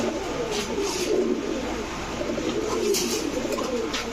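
Giribaz pigeons, an old-breed khaki pair, coo softly and continuously, a low rolling murmur close by with faint chirps over it and no talking.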